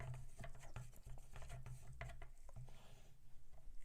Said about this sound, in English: We will say that our stirring is complete.